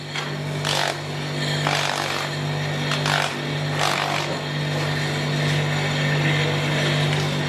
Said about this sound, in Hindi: फाइनल प्रोडक्ट फिनिशिंग के लिए हम इसे ग्राइंड करते हैं इस तरीके से